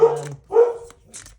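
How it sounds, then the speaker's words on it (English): A dog barks twice at close range, loud and evenly spaced, followed by a softer third yip, with quiet between the barks. "that's my dog's barking."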